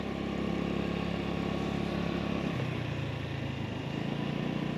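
Small Honda Navi motorcycle engine droning steadily while riding, a close, constant mid-pitched hum with wind noise and a slight drop in pitch about halfway through.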